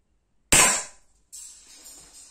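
A Beeman P17 4.5mm air pistol fires a single sharp crack, followed moments later by a fainter high impact sound from the target about 8 metres away.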